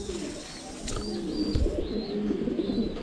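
Pigeons coo repeatedly at a pigeon farm, several soft throaty calls overlapping at close range, with a few higher chirps and light background rustle.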